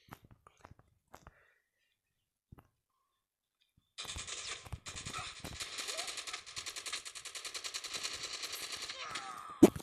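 Rapid automatic gunfire in the video game Call of Duty Mobile bursts in after a few seconds of near silence with faint clicks, then rattles on steadily and loudly to the end.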